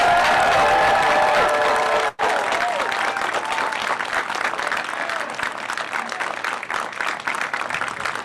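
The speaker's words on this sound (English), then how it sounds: "Let us give the graduates a hearty round of applause." Hearty applause with some cheering from a crowd at an in-person college commencement for graduates, loud and continuous after a brief break near the start, with no one talking over it.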